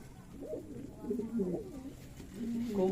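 Pigeons cooing at a pigeon farm of racer and Rajshahi Giribaz pigeons, soft repeated low coos from nearby birds under a faint background murmur.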